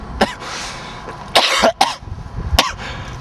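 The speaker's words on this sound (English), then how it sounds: "That cough. I have that cough." A person gives several sharp, close coughs, one early and a cluster of harsh bursts in the middle, with a final cough near the end, separated by quiet breathing.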